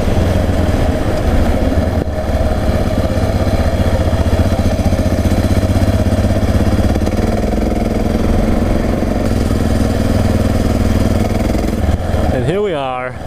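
A Yamaha XT 660R motorcycle climbs uphill on a single-track trail toward a windmill. The engine note is loud, close and continuous, with a warbling sweep near the end.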